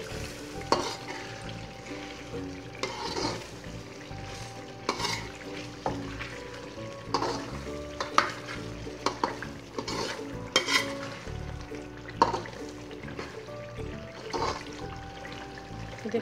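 Dahi chicken, a yogurt-based meat curry, is stirred in a pan. Repeated scraping and clinking strokes of a spoon come at an uneven rhythm over a soft bubbling sizzle, close by and without speech.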